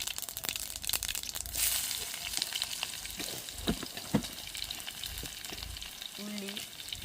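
Onion, green chilli and garlic tempering in hot oil in a clay pot, a steady close sizzle and crackle with scattered stirring scrapes throughout, no talking.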